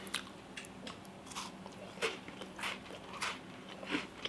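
Someone bites into and chews a Twix candy bar close to the mic, making soft, irregular crunches that repeat every half second or so. The room is otherwise quiet.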